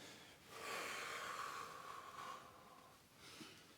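A single big, breathy exhale pushed out during a no-equipment core workout exercise, close and fairly soft, lasting a couple of seconds, followed by a shorter second breath near the end.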